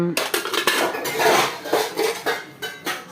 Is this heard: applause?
no